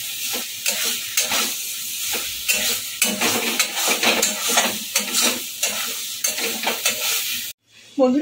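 Pointed gourd cooked with poppy seed paste is stirred steadily in a pan, with repeated scraping strokes over a continuous sizzle, close and fairly loud, ending in a short pause and a brief clatter.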